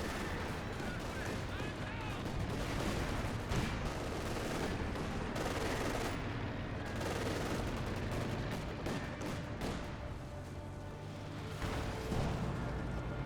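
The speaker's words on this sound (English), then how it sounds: "it looks like the Zis is doing a great barrage on top of the cannon warfare" Soviet ZiS field guns laying down a sustained artillery barrage in the Company of Heroes 2 strategy game, with dense, continuous booms and gunfire layered over the battlefield throughout.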